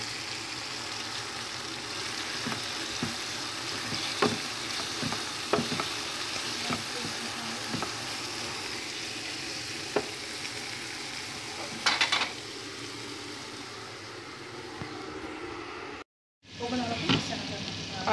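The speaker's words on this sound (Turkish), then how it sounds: "Evet, şimdi soğanları kavuruyoruz." Onions sizzling as they are sautéed in a pan, a steady close frying crackle with occasional stirring clatter, a brief silent gap near the end before the sizzle resumes.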